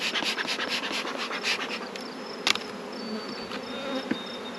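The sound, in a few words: honey bees buzzing at an opened hive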